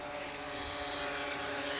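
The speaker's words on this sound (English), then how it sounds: "So now it flies with the jet sound as well." A model aircraft with a jet turbine engine in flight at an outdoor wing show, giving a steady, fairly distant whining roar with a tonal hum that swells slightly over a couple of seconds.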